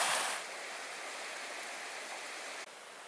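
Steady rushing flow of a small river at a hiking crossing in the Porcupine Mountains backcountry, a soft continuous broadband wash of moving water, louder for the first half second and then even and moderately near to the end.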